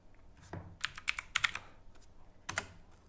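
Typing on a computer keyboard, crisp close-up key clicks in short bursts of several taps with brief pauses, quiet and without voices.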